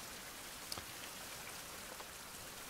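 Rain falling at night in a survival video game, a soft, steady hiss of drops with a couple of faint distinct droplet ticks, no voices.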